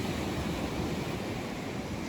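Wind and surf roar continuously on a rainy beach, a dense, even rush of noise with no distinct breaks and no voices.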